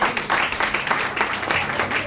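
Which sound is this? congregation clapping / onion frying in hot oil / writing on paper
congregation clapping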